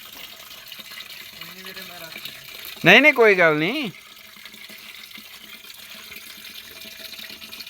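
A steady hiss of tap water runs throughout, with voices talking briefly over it partway through.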